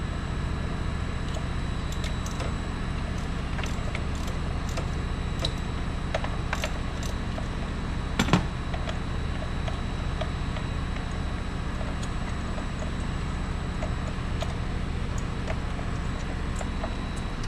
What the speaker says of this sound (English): There's a lot of threads on these, so you'll get used to unthreading spark plugs for a while.